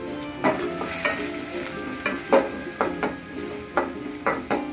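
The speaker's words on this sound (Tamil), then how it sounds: "இது போல் நல்லா கோல்டன் ப்ரௌன் வர வரையிலும் நம்ம வெங்காயத்தை வதக்கி விட்டுக்கலாம்" Onions being sautéed until golden brown in a pan give a soft continuous sizzle, punctuated by repeated close scraping stirs at a roughly steady rhythm, with no talking.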